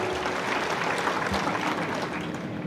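An audience at a political gathering applauds to welcome Jayantrao, a dense, steady wash of many hands clapping together that stays loud and even throughout, with no clear speech over it.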